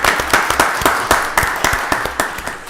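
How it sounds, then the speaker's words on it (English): A few people clapping at a county board of commissioners voting session, sparse distinct claps in a loose uneven rhythm, fairly close and loud, with no talk over them. "That deserves a round of applause."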